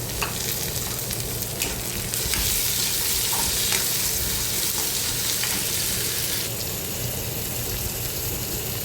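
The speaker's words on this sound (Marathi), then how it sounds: "कांदा परतून झालं याच्यामध्ये टोमॅटो घातला" Loud, continuous sizzle of onion and tomato being sautéed in a pan for an everyday vegetable dish, with steady stirring and scraping over the frying hiss.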